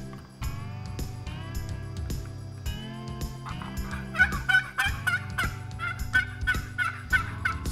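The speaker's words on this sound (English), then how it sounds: "Locally made turkey calls for locally grown turkeys." A locally made, hand-played turkey call with an adjustable screw and no chalk gives raspy yelps and gobbling clucks in quick, uneven bursts, fairly close with no voices.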